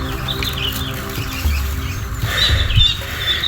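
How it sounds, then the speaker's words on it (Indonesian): A bird chirps in a bamboo grove, small high tweets repeating intermittently above a steady outdoor background with some rustling and low thumps. "Itu burungnya bunyi terus lor"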